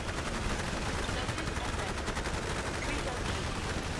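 Continuous rapid gunfire and cannon blasts from a battle in the Forged Battalion strategy video game, dense and steady throughout with no gaps.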